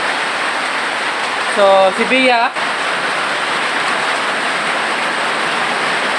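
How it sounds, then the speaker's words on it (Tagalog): Heavy rain falling hard outdoors, a dense continuous roar that stays steady while a voice speaks briefly near the start. "Ikusog man ang ulan"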